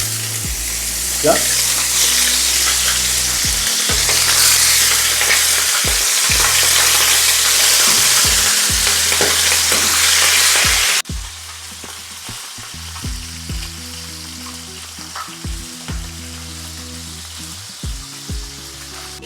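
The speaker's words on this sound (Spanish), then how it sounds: "Ahora voy a empezar a agregar mi pollo. Una recomendación, siempre agrégalo, empieza a sellarlo, a dorarlo por el lado de la piel." Chicken sears skin-side down in a frying pan with a loud, dense sizzle that drops suddenly to a quieter crackle partway through, punctuated by soft knocks and clatters; a voice briefly speaks once.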